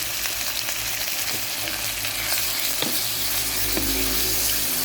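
Tomatoes and alamang shrimp paste frying for pinakbet, a steady close sizzle with a few stirring scrapes and clinks throughout, no talking.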